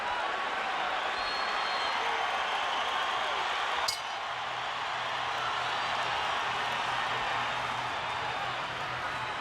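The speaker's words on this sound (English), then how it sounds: "Crowd cheers as we get past the midpoint of the fight." Boxing arena crowd at the Oscar De La Hoya vs Ike Quartey fight, a continuous distant roar of cheering with a brief sharp clink partway through.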